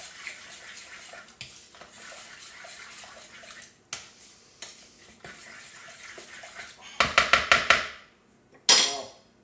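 A spoon stirs and scrapes around a bowl of crustless quiche mixture in a steady, close rhythm, then several sharp metallic knocks and taps on the bowl rim near the end.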